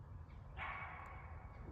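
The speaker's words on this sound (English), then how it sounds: "Wow, how loud that bark is and how it echoed." A single loud dog bark outdoors on a morning walk near a hornets nest in Shiloh, ringing out and trailing off in a long echo as if in a canyon.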